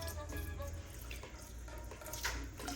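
Cold tap water runs steadily into a sink while pork for Puerto Rican pernil is rinsed, a continuous close splashing hiss with faint handling sounds.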